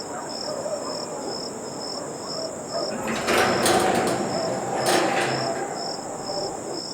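Crickets chirp in a steady, continuous trill around a ruined house on a moonlit night. A couple of brief rushing gusts of wind swell through the middle, and no one speaks.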